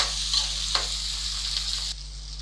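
Onions sauté in a pan for semiya upma, giving a steady close sizzle with a couple of brief spatters and a low hum underneath, with the frying fading slightly near the end.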